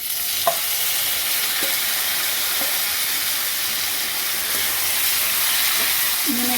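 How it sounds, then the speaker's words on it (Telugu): Boneless chicken and fried onions sizzle in a pan for a white chicken dish, giving a steady, close hiss of frying with a few faint clinks of stirring. "ఇప్పుడు చికెన్ వేసేస్తున్నానండి."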